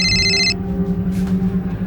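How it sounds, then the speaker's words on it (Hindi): A telephone rings with a bright electronic trill for about half a second, then stops, leaving a low hum behind. "बेटा फोन उठा"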